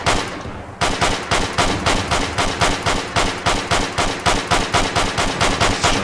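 Rapid automatic gunfire in a video game as a player empties a magazine, a loud, steady stream of about four shots per second that continues unbroken for several seconds.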